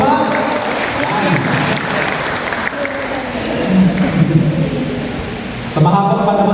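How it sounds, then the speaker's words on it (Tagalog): A church congregation of young people and adults applauds the Lord in a dense, continuous wash of clapping that swells midway and surges again near the end. "Pumalakpak ang lahat ng kabataan, lahat ng bata at feeling bata, pumalakpak"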